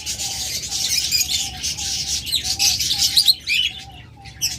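Pet cockatiel pairs at a bird sale chirp and tweet continuously in dense overlapping calls, with a steady repeated whistle-like tone running underneath, fairly close and lively.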